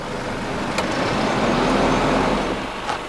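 A Mercedes Unimog U5023 truck in manual mode pulls away in second gear, giving a steady, close engine drone and road rumble with no pauses over a few seconds.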